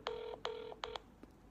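Three steady telephone keypad tones sound in quick succession, each lasting a fraction of a second with short gaps, quiet and clean on a phone line, followed by a faint brief click.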